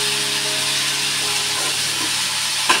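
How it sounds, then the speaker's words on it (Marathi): Ginger, garlic and green chilli sautéing in hot oil with mustard seeds for vada pav filling, a steady close hiss and sizzle with a brief clink near the end. "आता मी हे बघा आलं लसूण आणि मिरची चांगलं परतून घ्यायचं तेलावर"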